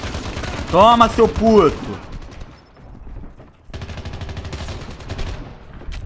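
Rapid bursts of automatic gunfire in the mobile shooter Call of Duty Mobile, loud and close, with a player shouting excitedly over the first volley. A short pause follows, then more steady firing.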